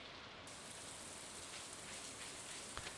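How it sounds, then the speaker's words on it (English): Steady rain falling in a farming video game, an even wash of soft patter that holds throughout with no voices over it. "It's raining."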